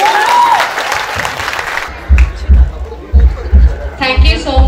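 Audience at a Telugu beauty pageant event in Visakhapatnam claps in a burst of crowd applause with background chatter, then a few separate loud claps or thumps ring out near the microphone.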